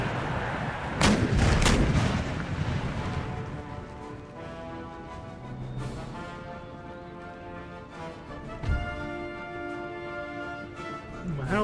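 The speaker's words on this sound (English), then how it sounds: "fire that howitzer here" Howitzer artillery firing in the Empire Total War video game, a heavy booming blast early on followed by rumbling echoes and scattered further reports over a steady battlefield din of gunfire and music.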